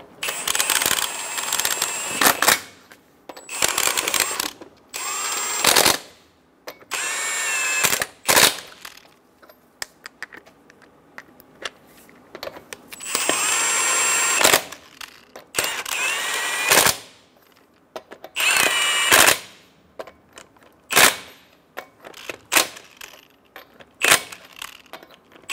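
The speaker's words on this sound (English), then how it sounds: "Snug the lug nuts down." Lug nuts on the front wheel of a 2014-2018 Chevrolet Silverado 1500 being snugged down with a power tool: repeated loud, close rattling bursts of whirring and hammering, separated by short pauses, with no talking.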